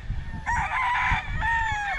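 Dan Gray crossbred rooster on a gamefowl farm crowing twice nearby, a loud drawn-out call followed by a shorter second crow over faint background noise.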